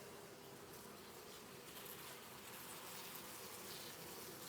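Honey bees buzz over a hive frame being inspected, forming a continuous soft hum that stays faint and even throughout with no voices.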